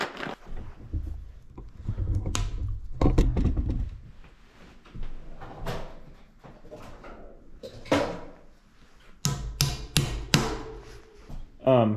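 Plugs tapped into the handlebar ends of a vintage 1989 Specialized Stumpjumper Team mountain bike, giving a series of close, sharp knocks in uneven bursts, with a person talking in between.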